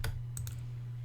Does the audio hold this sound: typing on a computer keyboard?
yes